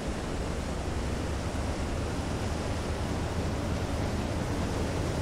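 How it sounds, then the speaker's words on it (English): Ocean waves in Silent Hunter 3 with the GWX mod, heard from a U-boat on the surface in rough weather: a steady, dense roar of surf and wind with no distinct breaks, at moderate level and alone. "My god, these waves. Seriously."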